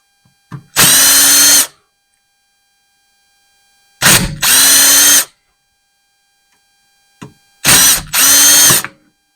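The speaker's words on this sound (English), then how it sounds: "I've got this impact driver, and I've got sockets for it." An impact driver fitted with a socket removing a front wheel bearing cap on a 2008 Dodge 2500, heard as three loud close hammering bursts of about a second each, separated by silence and each led by a brief trigger blip.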